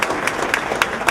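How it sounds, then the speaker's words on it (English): An audience at a podcast event claps for a guest in the room, a short burst of mixed hand claps with a few sharper individual claps standing out over the steady patter. "Give her a round of applause."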